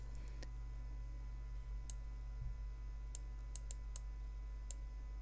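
A computer mouse clicks sharply several times, including a quick double click, each tick crisp and isolated over a steady low electrical hum in a quiet room.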